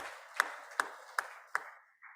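Four evenly spaced, sharp claps from an audience at a Bhaktivedanta Institute lecture event, each a crisp single hit with a short tail, fairly close and alone.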